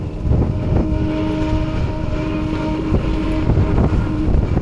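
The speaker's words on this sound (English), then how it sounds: "The wind is strong." Strong wind buffeting the microphone on Mt. Ugo, a 7,054 ft mountain, a loud continuous roar with gusty swells and a low rumble throughout, no voices.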